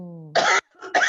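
A brief voiced hum leads into two sharp, close coughs separated by a short pause, loud and dry.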